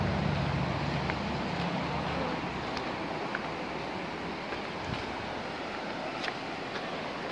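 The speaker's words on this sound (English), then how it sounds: "There's the river." A river in Kyburz, California rushes in a steady broadband wash, continuous and fairly close, with no voices over it.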